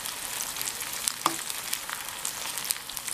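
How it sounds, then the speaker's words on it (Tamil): Brinjal pieces frying in oil for pickle, a close, continuous bubbling sizzle with small crackles and one brief clink. "கத்திரிக்காயை எண்ணெயில் போட்டு பொரிச்சு எடுத்துடலாம்"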